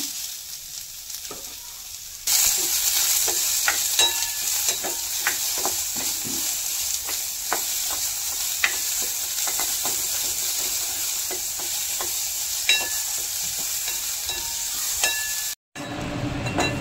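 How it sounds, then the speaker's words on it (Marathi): Onion frying in oil in a kadhai until reddish, a loud steady sizzle that rises sharply after a quiet start, dotted with repeated spoon scrapes and clinks against the pan, no talking. "भाजून घ्यायचं, लालसर येऊ द्यायचा"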